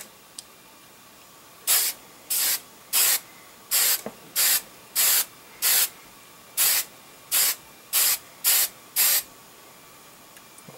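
Hairspray misted in thin coats onto a miniature model as a chipping layer, a dozen short hissing bursts of even length in a steady rhythm with brief quiet gaps, close and loud.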